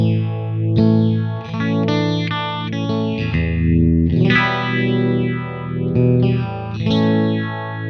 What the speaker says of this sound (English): we can go through and have a look at a univibe kind of sound.